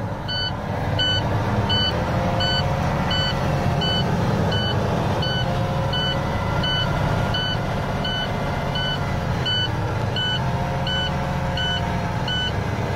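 A truck engine holds a steady high idle while its air brakes build pressure, a loud continuous rumble with a reversing beeper chirping regularly throughout.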